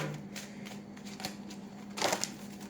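Oracle cards being shuffled by hand, soft papery riffles close by, ending in a brief louder burst of card rustle, over a low steady hum with no talk.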